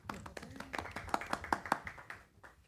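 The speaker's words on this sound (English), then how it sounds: "a little round of applause, maybe" A small group at a board of elections work session claps briefly, a scattering of sharp hand claps building to a quick peak then fading out, fairly faint.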